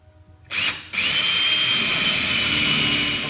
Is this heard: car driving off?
no